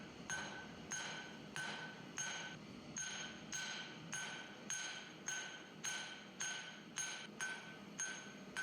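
Regular ringing hammer blows forging a steel taper for an S-hook, about two per second, bright and clanging with a steady rhythm, close and fairly loud with no speech.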